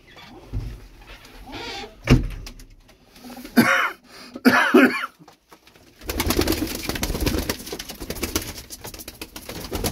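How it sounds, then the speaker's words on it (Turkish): Game birds, a parent pair with their young, call in a few short cooing bursts over a rustling background, followed by a steadier rush of ambient noise. "Anne, baba ve yavruları. Bir takım güzel kuşlardan."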